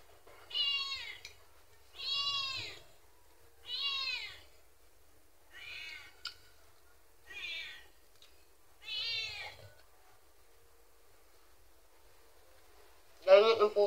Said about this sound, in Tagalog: Ganyan ang pusa.